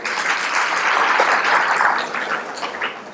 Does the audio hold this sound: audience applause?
yes